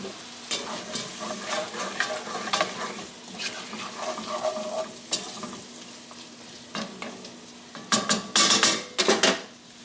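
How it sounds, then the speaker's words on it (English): A utensil scrapes and clinks against a pan while sesame and garlic fry in oil for cornbread stuffing, under a steady sizzle with a cluster of sharp metallic knocks toward the end; no talking. "In the pan, baby. Stir it up, we'll get this nice and softened"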